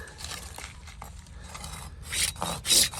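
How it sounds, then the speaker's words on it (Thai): Soft rasping strokes of a Gyokucho Razorsaw hand saw cutting through PVC pipe, a few quiet passes building to two louder, brighter strokes near the end. "ฟังเสียงครับนิ่มมาก กินท่อ PVC นี่นิ่มมากครับ"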